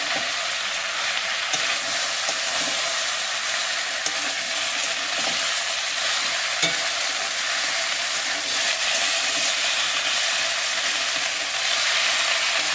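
Eggplant and potato being fried with spices in a pan give a steady, loud, continuous sizzle with faint scraping of stirring throughout, no voices.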